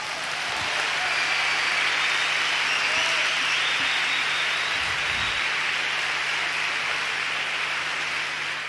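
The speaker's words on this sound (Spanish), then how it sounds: "Aplaudan, por favor, un poquito más," Concert audience at a 1994 show applauding in a dense, steady wash of clapping that fills the whole stretch, loud and sustained without pause.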